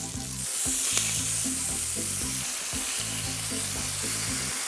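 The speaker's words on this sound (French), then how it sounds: "On retourne le veau quand il est coloré." Veal steak searing in a hot pan gives a loud, steady sizzle that runs unbroken throughout, with no voices.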